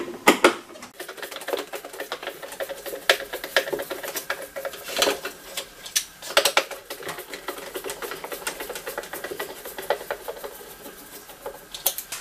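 Torx T15 screwdriver turning out screws on a steam generator iron, a close, dense run of small ratcheting clicks and metallic taps with irregular bursts throughout.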